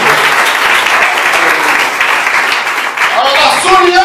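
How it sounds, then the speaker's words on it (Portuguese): Loud, dense applause from a church congregation fills the whole stretch, steady throughout, with a preacher's voice rising over it near the end. "Primeiro aplauso para ele"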